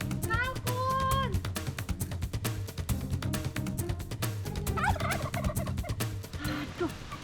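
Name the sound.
turkey gobbling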